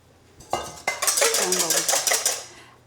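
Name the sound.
eggs being whisked for omelet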